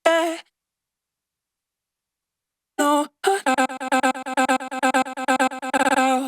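Processed vocal sound design: a short sung tone, a gap of silence, then layered vocal moans chopped into a rapid rhythmic pulse by a faux sidechain effect.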